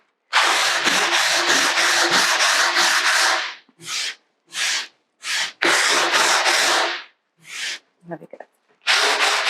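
Coarse sandpaper is rubbed by hand over a furniture finish in loud rapid back-and-forth strokes, first a continuous run and then separate scrubbing bursts with short pauses, and a voice speaks briefly near the end.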